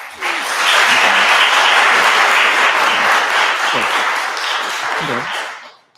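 An audience at a board of aldermen meeting bursts into loud, sustained applause, a dense wash of clapping that swells quickly, holds for several seconds, then tapers off at the end.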